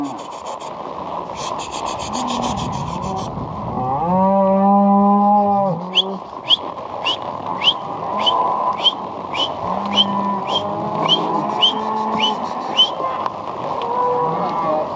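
Cattle being herded toward corrals, with a drawn-out low moo standing out in the middle, plus a herder calling and a run of short, sharp whistles afterward, all close by.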